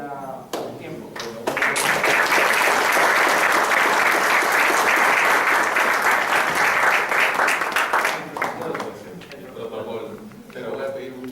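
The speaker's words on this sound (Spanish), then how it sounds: "Pero voy a pedir un nuevo aplauso para Juan" An audience at a talk on crisis management plans breaks into sustained applause, dense and steady for several seconds before thinning out, with voices mixed in under the clapping.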